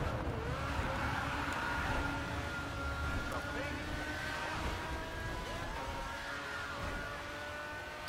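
A damaged Pagani Zonda Revolucion in the racing game GRID 2 drones along with a broken exhaust, its engine holding a steady, slightly wavering whine with shifting pitch throughout, without pauses.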